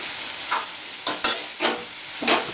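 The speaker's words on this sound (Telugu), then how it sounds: "ఈ ఉల్లిపాయల్లోనే కట్ చేసి పెట్టుకున్న టమాటాలు 2 వేసుకోండి." Chopped tomatoes and onions frying in a pan for an egg and dried prawn curry are stirred, giving four scraping, sizzling bursts spaced about half a second apart over a steady low hiss.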